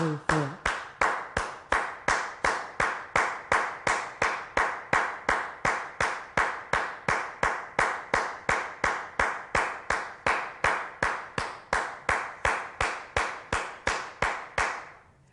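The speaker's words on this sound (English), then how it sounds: "when I'm clapping, the first clap is the left hand or right hand" Hands clap in a steady, even rhythm, a long run of about thirty crisp, close claps alternating left and right hand as conga practice, with no talk over them.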